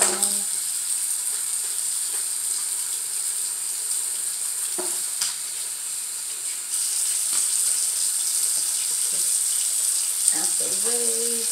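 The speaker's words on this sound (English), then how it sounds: "So I'm gonna rinse this on." Tap water running steadily while rinsing 4A-type hair, a constant close hiss and splash with small shifts in flow, and a few brief faint sounds near the end.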